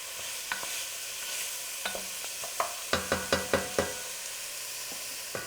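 Onion cooking in a pan for soup, a faint steady sizzle under a series of sharp spoon scrapes and taps as it is stirred, close up with no talking.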